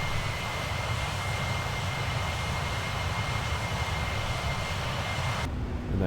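Jet engines of a Boeing 767-400 in the X-Plane 11 flight simulator, climbing with flaps up on autopilot, give a steady broad roar with a faint high whine, cutting off sharply near the end.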